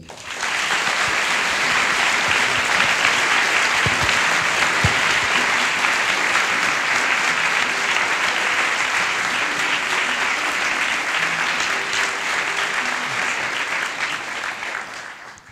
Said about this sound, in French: Merci d'applaudir très fort Jean-Paul